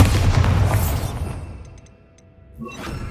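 Bombarda spell blast in the Hogwarts Legacy video game: a loud booming burst with crackling debris up front, fading to near silence, then a brief sharp magical flare and whoosh near the end.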